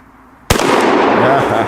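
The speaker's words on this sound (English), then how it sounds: "we are shooting slugs now" A single loud shotgun blast from a Rossi Overland coach gun firing a slug cracks sharply after a brief quiet moment, then rumbles and echoes outdoors.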